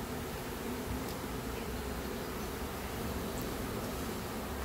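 Honeybees buzz around a hive during a hive relocation, a dense, steady swarm drone that fills the scene continuously at moderate level with no talking.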